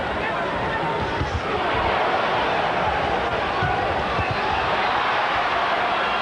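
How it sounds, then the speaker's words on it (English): A boxing arena crowd roars wildly throughout a De La Hoya versus Whitaker fight, a dense, continuous wall of cheering and shouting with no break, loud and close. "Crowd reacting wildly to everything De La Hoya attempts."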